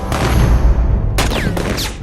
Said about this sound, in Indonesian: The Expendables menemukan sebuah desa yang penduduknya tiba-tiba menembaki The Expendables